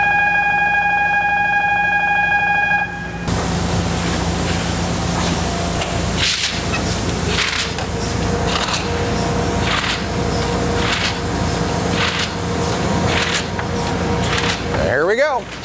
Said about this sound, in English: Okay, so now we're getting ready to start up the press.